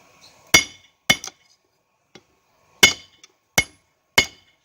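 A hammer striking metal on an anvil at a forge, five or six sharp ringing clanks in an irregular rhythm with a few faint light taps between, close and loud with no talk.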